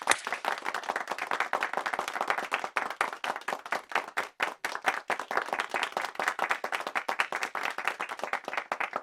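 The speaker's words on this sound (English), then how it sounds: "Y'all start clapping at home and in here for Durmerrick" An audience claps steadily for a performer at a poetry and storytelling event, a dense, sustained patter of many hands continuing throughout without a break, fairly close and even in loudness.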